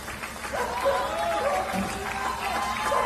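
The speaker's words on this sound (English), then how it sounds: "people cheer from their windows for the garbage disposal workers below" A crowd cheers and calls out from apartment windows above garbage workers in the Lopez neighborhood of Argentina, with scattered clapping and overlapping voices that sound distant and echo off the buildings.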